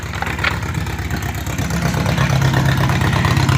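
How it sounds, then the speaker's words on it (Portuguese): A lowered car's engine idles with a rough, chugging tractor-like rumble, steady and close, swelling slightly louder toward the end with no talk. "Olha o barulho do motor do carro dele. Parece um trator."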